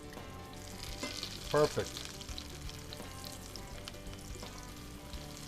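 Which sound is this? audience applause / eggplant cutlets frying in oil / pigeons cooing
eggplant cutlets frying in oil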